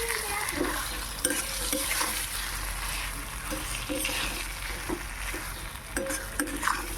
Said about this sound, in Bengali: দিয়ে এর সাথে একবার একটু কষিয়ে নেব ভালো করে